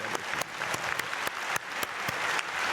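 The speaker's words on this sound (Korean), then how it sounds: "오늘 성가대 박수." A church congregation applauds its choir with steady, moderately loud clapping, a fairly even rhythm of many hands filling a large room, with no voices over it.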